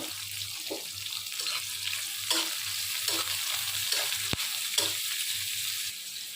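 Green chili, garlic and onion sizzle in a hot pan of oil, with a steady frying hiss close up, a few scraping stir sounds and one sharp clink of a utensil.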